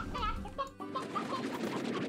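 Video game hens cluck and chatter in short, bright bursts, a few calls overlapping at close range over a faint background.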